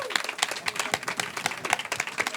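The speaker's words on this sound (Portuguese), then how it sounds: "Queria pedir um salve de palmas para todo mundo que se engajou hoje." Audience applause at a small talk event, a modest group clapping with distinct, uneven individual claps close by, filling the moment without any speech.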